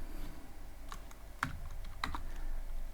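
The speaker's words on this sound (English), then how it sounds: "I'm gonna type pygame" A few scattered keystrokes on a computer keyboard while typing Python code for a Pong game, close and fairly quiet over low background hum.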